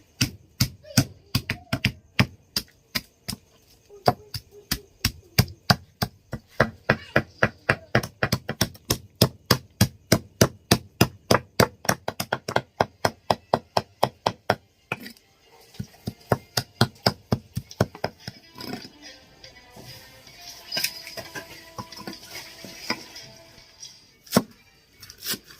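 Squirrel meat pounded for Lao-style laab, dozens of sharp, rapid rhythmic blows close up, steady at first, then slowing and scattering with some clatter toward the end.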